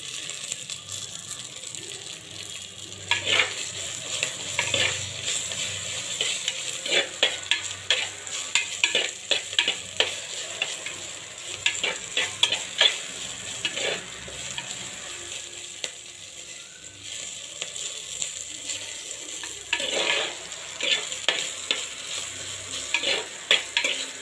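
Brinjal sautés in a clay pot for a village-style chilli tamarind dish, a soft continuous sizzle broken by repeated scraping, rattling strokes of a ladle stirring against the pot, no talk.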